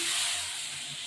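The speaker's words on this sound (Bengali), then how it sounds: "একটু জল দিলাম" Water poured into a hot pan of fish curry made with tengra, rui fish and potato bursts into a brief, loud steamy hiss that fades slightly within about a second.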